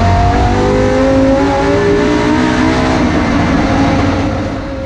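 A BMW S85 5.0-litre V10 swapped into a Toyota 86 chassis revs loudly up close, a dense buzzing multi-harmonic engine note that climbs and holds steady, with no talking.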